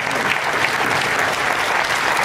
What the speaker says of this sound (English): Give him a big round of applause, ladies and gentlemen.